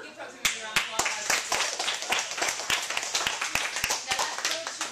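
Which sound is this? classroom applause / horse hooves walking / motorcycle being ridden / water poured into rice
classroom applause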